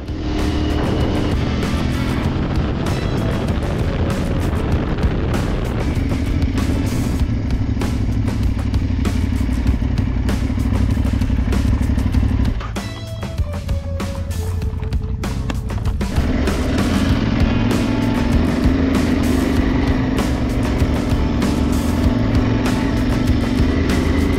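An Aprilia Tuareg Rally motorcycle riding dirt trails, its engine droning loudly and continuously close to the mic with clattering gravel and wind, the pitch dipping briefly midway before climbing again as the bike accelerates.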